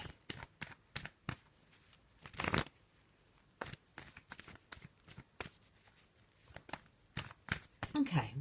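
Oracle cards being shuffled by hand, close and quiet: a run of irregular soft riffling and slapping bursts, with a short word or two near the end.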